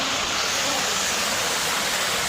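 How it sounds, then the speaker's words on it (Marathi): High-pressure water gushes out of holes in the rock at a temple near Tirupati, producing a loud, continuous, roaring rush with no break, close to the listener. "बघा होलमधून पाणी यायला लागलं, इतका जास्त प्रेशर आहे"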